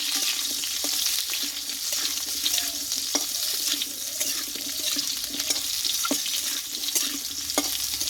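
Cauliflower and potato pieces hit hot oil seasoned with panch phoron, giving a steady, loud sizzle with scattered crackles and occasional spatula scrapes throughout, no voices.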